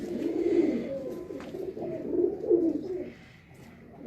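Pigeons coo on a rooftop in close, soft, rolling calls that repeat through the clip. The calls swell and fade, then quiet down near the end, with no one speaking.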